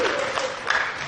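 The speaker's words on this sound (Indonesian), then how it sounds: "yang keras sedikit ke tepuk tangannya dong" Applause from a crowd at an Indonesian political talk-show gathering, a steady dense patter of clapping that holds for the whole stretch at moderate level.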